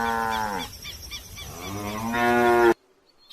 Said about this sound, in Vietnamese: Con bò sữa.